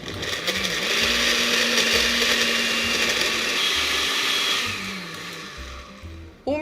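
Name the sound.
blender liquefying carrots at maximum speed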